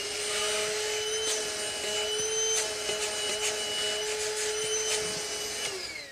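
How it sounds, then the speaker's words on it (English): Steady whining drone of a vacuum cleaner running during Martin HD-28 guitar reconstruction work in a workshop, holding a constant pitch with small clicks and bumps as it picks up debris, then winding down at the end. "And now we need, again, the vacuum cleaner."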